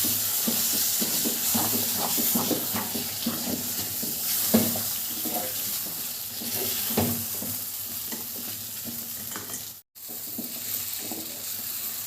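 A spoon stirs a thick uppu urundai mixture in a pan, producing steady scraping and soft clinks over a low sizzle, with no voices.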